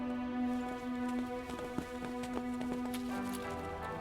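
Rapid horse hooves clip-clopping over a steady musical drone, the hoofbeats sharp and fairly close, with no clear speech.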